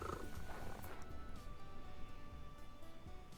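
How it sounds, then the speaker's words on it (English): Cat purring played as a stream follower alert, a soft continuous rumbling purr at low volume lasting a few seconds. "I forgot that I set the follow thing as purring and was like, what is that noise?"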